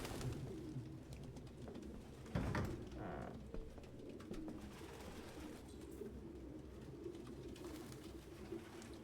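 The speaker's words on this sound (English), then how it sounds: "It's almost like there's pigeons all over the fucking place." Pigeons coo steadily in the video game Detroit: Become Human, a dense, continuous layer of soft cooing and bird calls over a low, rumbling ambient bed, with one brief louder knock partway through.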